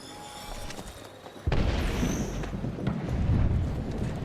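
A gas trap deploys in a video game with a sudden hard thump followed by a sustained hissing, rumbling rush that stays loud to the end, with no talking.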